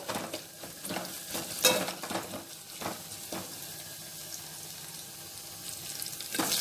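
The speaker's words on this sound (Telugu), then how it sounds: "చూడండి ఉల్లిపాయ ముక్కలు వేగిపోయాయి ఈ విధంగా వేగాలండి" Onion pieces frying for a green chili tomato dal, a steady close sizzle with a spatula stirring and tapping the pan several times, one sharper clank, and no talking.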